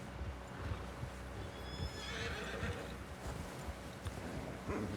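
Horse in Red Dead Redemption 2, close, with a whinny and steady clip-clopping hooves over faint wind, no talking heard.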